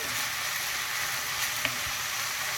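Onions cooking in a pan for meat-filled pastries, a soft steady sizzle with a faint stir or two, moderately close and fairly even throughout.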